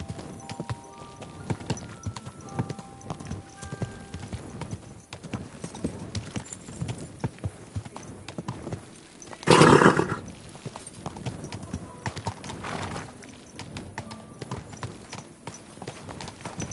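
Steady clip-clop of horse hooves throughout in the video game Kingdom Come: Deliverance II, with a sharp louder burst of noise around the middle, then the hoofbeats carry on at a moderate level.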